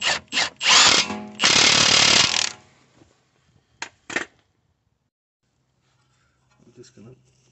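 A power tool drives a large bolt back into a VW Audi front-wheel-drive axle assembly in loud, close bursts of whirring and ratcheting, several short pulses then two longer runs, followed by a few faint clicks and quiet.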